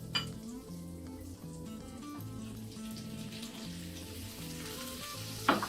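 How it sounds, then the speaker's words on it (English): Shrimp fry in two tablespoons of melted butter in a skillet, a close steady crackling sizzle with a low hum beneath and a sharp burst of spatter at the end, no voices. "and now we're gonna put the shrimp in."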